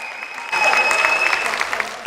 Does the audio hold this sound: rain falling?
no